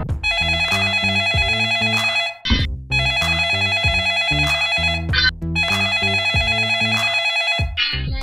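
A telephone rings loudly in a repeating electronic melody, three nearly identical bursts separated by brief gaps, with no voices.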